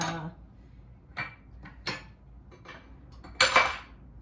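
Spatula scraping Christmas cookie dough around a mixing bowl, a few separate short scraping and knocking strokes with pauses between, the last one loudest, close up and alone without talk.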